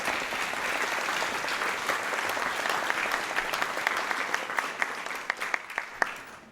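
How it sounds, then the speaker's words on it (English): An audience applauds at a group music performance with steady, dense clapping throughout. Near the end the sound thins and single sharp claps stand out. "can we get a huge round of applause for them?"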